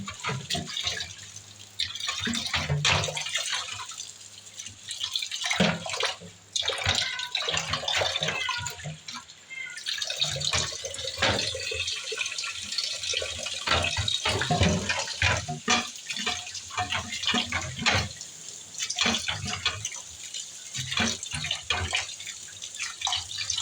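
Red rice is washed in water, with splashing, swishing and dripping that continue throughout, close and fairly loud.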